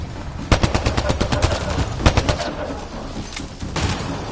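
Rapid automatic gunfire in the Mass Effect: Andromeda video game, loud close bursts of shots in quick runs with a brief lull near the end.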